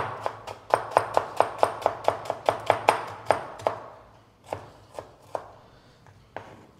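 A knife chops raw cabbage on a cutting board in a fast, even run of about a dozen sharp close knocks, then slows to a few scattered chops.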